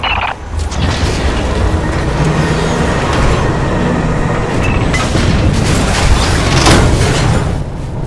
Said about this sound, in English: heavy cargo tram is docked and ready